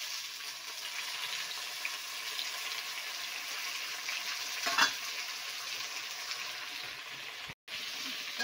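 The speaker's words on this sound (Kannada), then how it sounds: "ಮೊದಲು ಇವಾಗ ಎಣ್ಣೆ ಕಾಯಿಸಿದ್ವಿ. ಅದರೊಳಗೆ ಇವಾಗ ಕಟ್ ಮಾಡ್ಕೊಂಡಿರೋಂಥ ತರಕಾರಿ ಎಲ್ಲ ಹಾಕಬೇಕು." Chopped vegetables, tomato, onion and coriander frying in hot oil, giving a steady, fairly soft sizzle throughout, with a brief stir or clink near the middle and a short dropout near the end.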